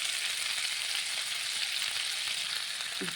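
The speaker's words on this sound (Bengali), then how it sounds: "এবার ওই তেলের মধ্যে দিয়ে দেবো এক চামচ জিরে" Spoonful of cumin seeds dropped into hot oil left from frying fish, giving a continuous bright sizzle that stays even and close throughout, with no talking.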